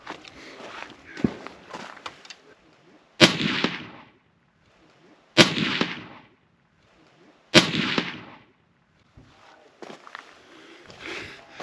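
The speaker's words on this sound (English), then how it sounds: "I feel like the suppressor made this gun significantly quieter, but I don't think it's quite hearing safe" Three loud, sharp reports from a rifle firing large bullets through a SilencerCo Hybrid 46M suppressor, each followed by a short decaying tail, evenly spaced a couple of seconds apart, with softer shuffling and handling noise between them.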